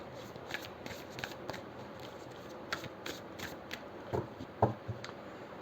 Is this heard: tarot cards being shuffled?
yes